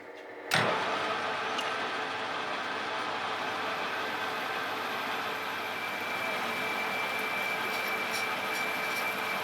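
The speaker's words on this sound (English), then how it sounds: "What we do is we bore out the rear cap, like so, until it stops on a particular mark that we want on the barrel." A lathe bores out the rear cap of a clamped rifle barrel, starting with a sharp onset and then running as a steady, even mechanical whir with a high tonal whine, close and alone.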